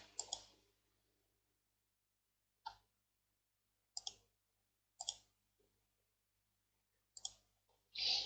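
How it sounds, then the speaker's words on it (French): A computer mouse is right-clicked on a file: about six short, sharp, isolated clicks spaced a second or so apart, close and quiet, with near silence between them and no talking. "Vous faites un clic droit sur ce fichier et vous allez ouvrir avec Paint."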